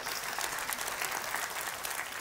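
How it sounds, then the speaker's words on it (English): A church congregation applauds during a Sunday service, a dense, even wash of clapping hands lasting a couple of seconds with no voices over it. "we can give her a round of applause one more time"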